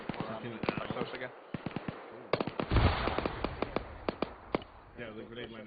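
Grenade detonation in a video game lands close by with a heavy thump amid sharp, repeated popping gunfire, while voices talk over radio chatter.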